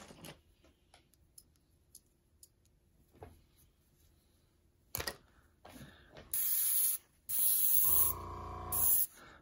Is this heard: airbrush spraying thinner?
yes